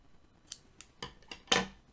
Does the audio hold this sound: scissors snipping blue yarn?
yes